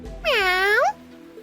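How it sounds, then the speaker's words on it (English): A single cat meow in the video game Trails Into Reverie, clear and close, rising then falling over roughly two-thirds of a second, with quiet background before and after. "Oh, it's just a cat."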